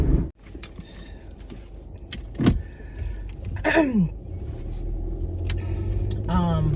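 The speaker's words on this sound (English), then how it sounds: "I'm in my car." Inside a moving car, engine and road rumble hold steady beneath someone talking, with a couple of brief clicks and rattles from the cabin along the way.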